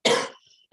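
A single sharp, harsh cough bursts out near a seminar microphone, followed a moment later by the start of a second, with no talk.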